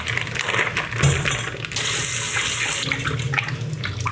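Tap water runs to rinse raw chicken in a kitchen sink, a loud continuous splashing gush close by, shifting in tone as the flow hits the meat, with a light clink near the start.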